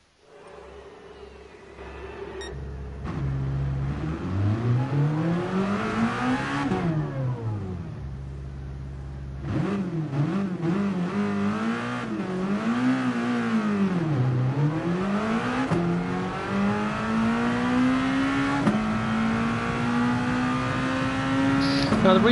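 Race car lapping Le Mans in a video game, engine revving up through the gears and dropping on braking in repeated sweeps, close and continuous, with a voice talking over it.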